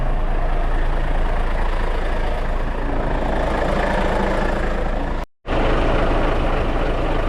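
A semi-truck's heavy diesel engine rumbles loud and close as the rig pulls forward, a steady low drone broken by one brief cut before resuming.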